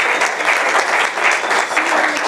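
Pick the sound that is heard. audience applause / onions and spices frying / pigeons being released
audience applause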